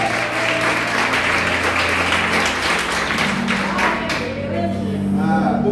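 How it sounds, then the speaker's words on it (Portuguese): Church congregation clapping hands in worship, steady dense clapping throughout mixed with sustained music and voices underneath. "Bata palmas glorificando Jesus."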